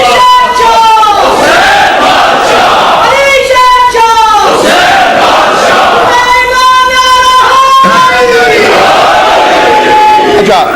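Large crowd at a religious majlis chanting a slogan in loud, sustained unison, several rising call-and-response waves of massed voices filling the hall, close and powerful throughout.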